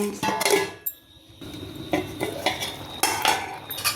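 A spoon stirs samai millet pepper pongal in a pot, scraping and clinking against the metal in short, irregular bursts up close, with brief pauses between strokes.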